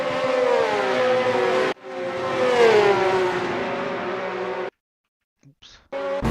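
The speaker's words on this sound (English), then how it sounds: "I think we're going to turn up the engine sounds a little more." Loud, high-revving racing engine of a 1967 Ferrari 312 in a Silverstone '67 racing game, sustained whining tones rising and shifting pitch, cutting out abruptly twice before a brief return.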